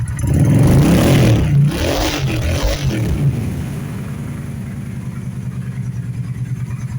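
A kick-started motorcycle engine revs loudly a few times up close, then drops back to a steady, lower rumbling idle.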